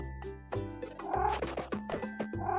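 A cat meowing in the video game Meow 'n' Dash, a string of short, tonal, cartoonish meows and chimes in quick succession against a steady backdrop of game music.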